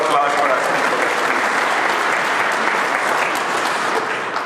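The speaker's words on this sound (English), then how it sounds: "Now, yes, another round of applause for us." Sustained applause from a conference audience at a ColdFusion Summit keynote, dense and steady clapping filling the hall at full strength throughout, with a few voices mixed in.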